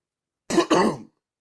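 A single sharp cough, or throat-clearing burst, in two quick close pulses, loud against silence.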